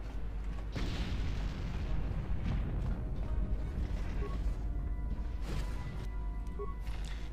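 A grenade goes off in the video game Star Wars: Knights of the Old Republic, a loud booming blast that sits over dense rumbling battle noise for several seconds.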